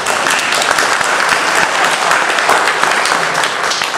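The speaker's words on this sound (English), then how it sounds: "That can have a round of applause for that" A church congregation gives loud, dense applause, many hands clapping close and continuously without pause, with no talking over it.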